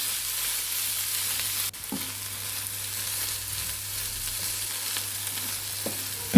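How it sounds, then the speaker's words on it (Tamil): Shark fish, onion and turmeric sautéed together in a pan give a steady, close sizzle, broken by a sharp clatter and a few knocks of the spoon against the pan as the mixture is stirred. "அதனால் நல்லா வதக்கி விட்டுக்கோங்க"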